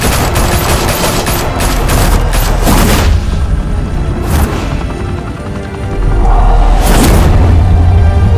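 Heavy gunfire in Batman: The Telltale Series, set in a Gotham high-rise mafia hangout: loud, sustained automatic bursts with booming impacts and crashes, continuous and close throughout, swelling louder toward the end.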